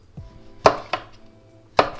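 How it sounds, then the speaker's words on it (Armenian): A kitchen knife slices unpeeled eggplant into thick rings for Greek moussaka: three crisp, close chops against a board, spaced unevenly, with a softer tap just before, and no talking. "բավականին հաստ օղակներով կտրատում եմ"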